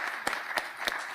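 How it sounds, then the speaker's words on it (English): A few sparse, distinct hand claps ring out at a talk about encouraging women in STEM, spaced roughly evenly and fairly close, with a soft background hum between them and no speech. "Clap for that,"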